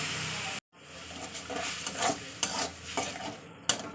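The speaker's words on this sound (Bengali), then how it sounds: "অল্প অল্প করে মাংসের স্টক দেবো অল্প অল্প করে দিয়ে দিয়ে কষাবো" Chicken braising in a pan with small additions of meat stock sizzles while a spoon stirs and scrapes against the pan. A brief gap of near silence comes early, then irregular clinks and scrapes over a steady hiss.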